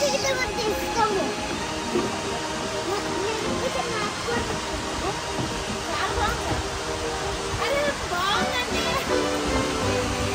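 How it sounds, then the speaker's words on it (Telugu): Water rushes steadily over the top of the main falls at Bushkill Falls, a dense, unbroken roar close by, with faint voices mixed into the constant noise. "Bushkill Falls, top of main falls."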